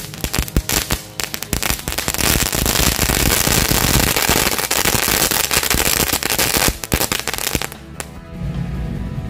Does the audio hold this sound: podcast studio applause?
no